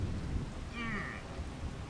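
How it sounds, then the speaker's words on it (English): Steady rain with a rolling rumble of thunder in the Farming Simulator 25 video game, fairly loud and continuous, with a brief tonal sound passing midway. "And it's raining, so I gotta wait on that too."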